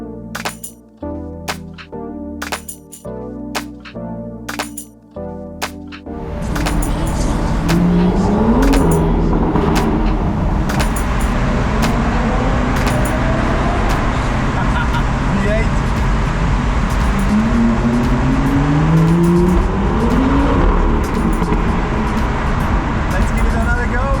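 After a few seconds of tonal music, a car pulls away and cruises on a rainy road on a road trip toward Norway, a steady loud roar of engine and tyre noise with occasional clicks and knocks.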